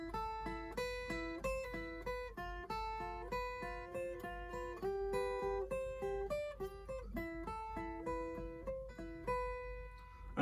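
Beginner lead exercise played as single notes on the first and second guitar strings, a clear melodic line of plucked notes in a steady rhythm, each ringing briefly, played alone.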